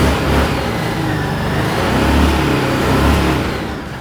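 A Harley motorcycle engine runs loud and close, rising and falling as it accelerates and shifts through gears, with a rough, throaty roar that swells and eases in waves and has no voices over it.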